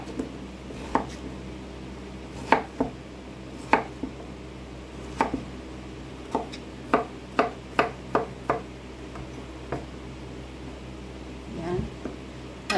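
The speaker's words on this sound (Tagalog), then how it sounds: "At hiwain din natin siya sa maliliit na hiwa." A knife chopping vegetables into small pieces on a board, a dozen or so sharp, separate knocks at an uneven pace, close and fairly quiet over a low steady hum.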